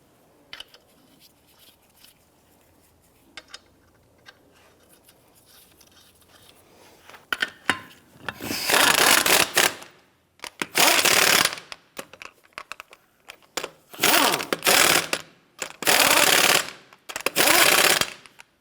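Lug nuts on a 1992-1996 Toyota Camry wheel are run down with a power tool in six loud, sustained bursts of one to two seconds each, separated by short pauses, after quieter clinking and handling noises.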